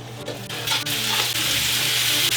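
Minced meat frying in a hot, lightly oiled pan for aubergine rolls, a steady loud sizzle with crackling texture throughout, close and unbroken, no voices.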